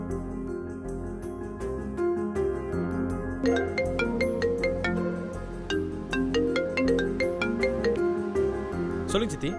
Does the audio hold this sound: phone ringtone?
yes